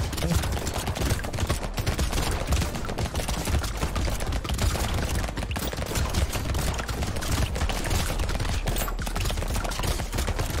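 Rapid video game gunfire from a shooter against an alien species, dense continuous bursts crackling loudly throughout with brief clusters of sharper shots, and a voice talking faintly beneath.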